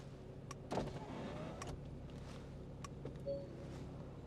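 Electric convertible roof of a 2013 Porsche Boxster 981 S closing, with a faint motor whir and a couple of soft mechanical clunks, quiet against a low background hum.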